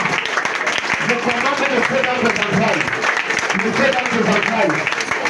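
A church congregation applauds during a prophetic worship service, the clapping a steady wash of sound beneath a preacher's loud, continuous voice.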